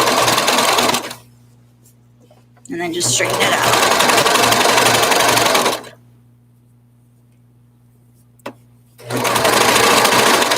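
A white serger overlock sewing machine stitching a crotch seam runs in loud fast whirring bursts separated by quiet pauses, with someone speaking briefly in between.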